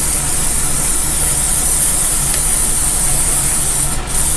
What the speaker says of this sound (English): Little spray up here.